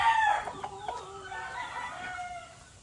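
A sweater gamecock rooster crows once, fairly close, a drawn-out cock-a-doodle-doo with a rising start that trails off, heard alone without talk.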